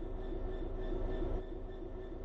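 A locomotive in the Train Sim World 4 game on Xbox One X runs with a steady low rumble and a faint, constant whine, unbroken and without voices.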